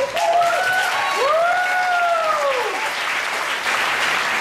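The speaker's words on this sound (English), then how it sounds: "Give him a round of applause." An audience at a memorial gathering claps for a performer and friend, a steady wash of applause with a sustained whistle-like tone gliding over it, continuing throughout.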